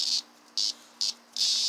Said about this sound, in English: just a cicada.